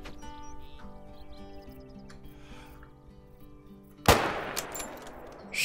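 A hunting rifle fires at a buck about 140 yards out in the video game Call of the Wild, one sharp, loud report breaking over quiet ambient music and faint birdsong, then a lingering echo.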